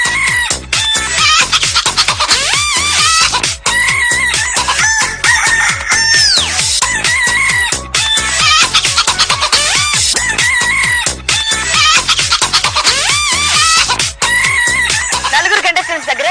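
Hen clucking and rooster crowing as a sound effect for a golden hen's arrival on a game show stage, loud and continuous with repeated clucks and a rising crow over steady background music.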